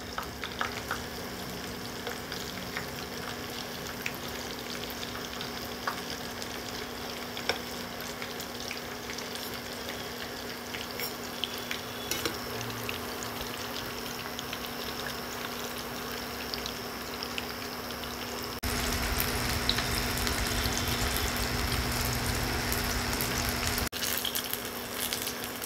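Sago pakoras sizzle steadily in hot oil, a dense, continuous crackle close up that grows louder near the end, with a faint constant hum and no talking.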